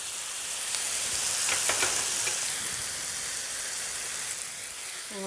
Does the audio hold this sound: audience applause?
no